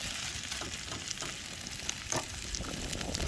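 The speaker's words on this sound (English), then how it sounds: "going to throw our sausages in there too" Sausages frying in a pan over a camp stove outdoors, producing a steady, close sizzle and crackle with occasional spitting pops and light stirring.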